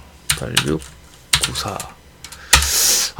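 Bursts of computer keyboard typing, a Linux vi editor session, come in three clustered runs of rapid clicks separated by pauses, close and fairly loud.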